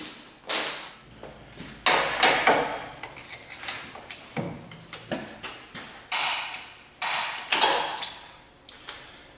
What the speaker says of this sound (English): Grab a torque wrench.